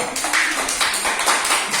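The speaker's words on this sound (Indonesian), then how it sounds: "tepuk tangan untuk kelompok berapa?" Classroom students clapping for a student group, a brief dense burst of hand claps filling the room at close range.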